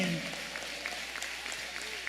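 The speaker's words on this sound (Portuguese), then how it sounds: "levante a tua mão e aplauda o Rei." A church congregation at a worship service applauds in a broad, steady wash of clapping, somewhat distant, with faint voices and a low hum beneath.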